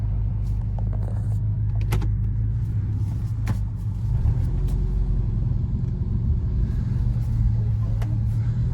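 A car on its first test drive after repairs to a budget static build with big camber, engine and road rumble droning steadily and close throughout, with no talking.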